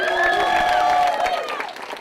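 At a Dodgers-hosted workshop with young baseball fans, a crowd cheers and claps as Ryu Hyun-jin is introduced, a dense wash of applause and voices that fades slightly toward the end.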